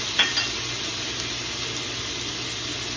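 Onions or aromatics sizzle and crackle steadily in a hot pan while being sautéed and caramelized for Filipino mongo bean soup, a continuous close hiss with a couple of brief stirring clicks at the start.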